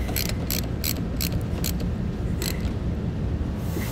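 A ratchet wrench tightening a nut during installation of a SnowBear Proshovel snowplow, with steady close clicks in short bursts over a constant mechanical background hum, no voices.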